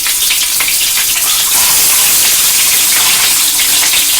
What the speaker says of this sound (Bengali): আমি তেলের মধ্যে ডিমগুলো দিয়ে দিচ্ছি একে একে।